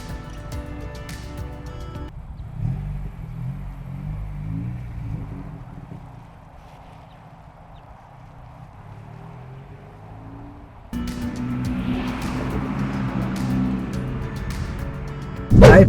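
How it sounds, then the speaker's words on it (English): A 2022 Honda Civic Si on the road, heard as a steady low engine and road rumble from inside the cabin, quieting midway and then swelling louder with wind noise toward the end. "we're gonna go for a drive because I gotta put some gas on this Civic"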